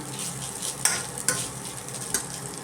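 A spoon stirs and mixes egg rice in a hot pan over a constant sizzle. Three sharp scraping clacks of utensil on pan stand out against the frying.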